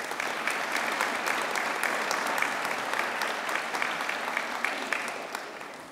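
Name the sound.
audience applause at a library ribbon cutting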